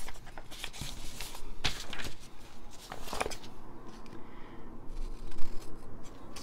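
Scissors snip through paper for a junk journal envelope folio, a few crisp close cuts mixed with rustling and handling of paper, fairly quiet with no talking.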